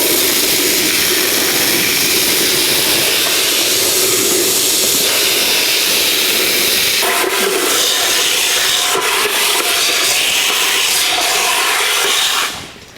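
A water spray hose rinsing a 1982 Jeep CJ7 heater box, a loud continuous hissing blast that shifts in tone as the spray moves across the plastic housing, cutting off abruptly near the end.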